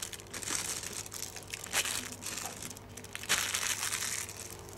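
Little plastic bags crumpled and crushed by hand while clearing a desk, a steady close crinkling with louder bursts near the middle and end, no talk over it.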